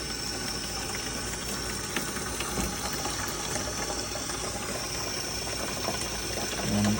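A tap runs steadily as water drains from an autoclave, making a continuous, even rush of flowing water with a faint mechanical hum underneath, close by and unbroken.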